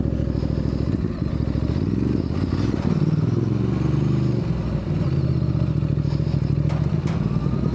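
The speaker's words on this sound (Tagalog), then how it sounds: "kapag nandito ka sa off-roading, di maibubuhos mo yung lakas ng motor, walang pigil" Ducati DesertX motorcycle ridden off-road on an unpaved adventure camp trail, its engine droning steadily and loud up close, with rumbling tone shifts, clattering gravel and wind buffeting throughout.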